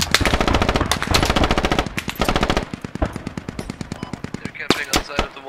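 Machine gun fire in the military shooter game Squad: long rapid bursts of loud automatic shots, then sparser single and short-burst shots further off, with voices talking now and then.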